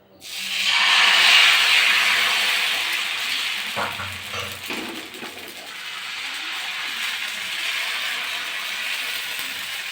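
Rice flour batter poured onto a hot, oiled tawa for soruchakli pitha sizzles loudly in a broad steady hiss that swells quickly, then settles to a continuous fry with a few soft clinks partway through.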